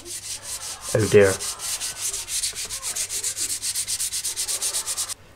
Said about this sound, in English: finishing the handle off with a bit of hand sanding